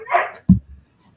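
A pet dog barks near a microphone in a home, giving one short sharp bark after a brief whimpering yip, then falling quiet.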